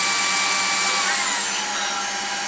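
Jimmy HW 10 upright vacuum cleaner running steadily on the floor, a loud continuous motor whine with high tonal hum, slightly easing off toward the end, no voices.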